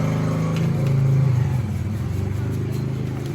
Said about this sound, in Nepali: बाइक स्टार्ट गरेर घुमाउने होइन दाइ